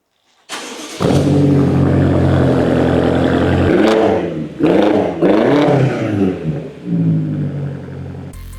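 A BMW X6M with a freshly replaced engine runs and revs hard up close, its loud, deep roar swelling and falling through several throttle blips before settling back to a steady idle, with no voices.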